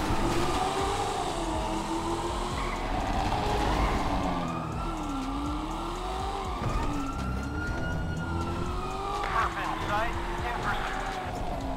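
Police sirens wail in GTA 5, a rising and falling tone that runs steadily through the whole stretch under nearly constant talk and engine and traffic noise.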